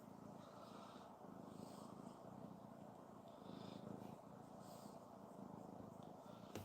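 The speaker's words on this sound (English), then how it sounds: "She's purring, y'all." A cat purring close up, a faint steady rumble pulsing in slow rhythmic breaths throughout, with no talking over it.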